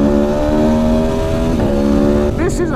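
A 2019 Aprilia Tuono Factory motorcycle engine, 175 bhp, drones loud and close at steady throttle, then its revs briefly rise and fall near the end.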